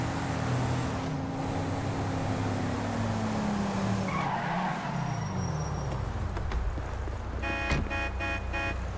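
A Jaguar car in Grand Theft Auto V roars along steadily with a sustained engine drone and tire skid, its pitch sliding down midway, ending with a burst of rapid clattering impacts.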